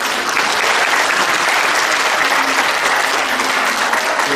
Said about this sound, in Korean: 다시 한번 뜨거운 박수를